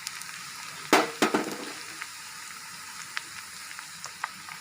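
Neem leaves drop into hot oil already frying with onions for a homemade medicated oil, setting off a sudden loud burst of sizzling spatter that fades into scattered faint crackles and pops.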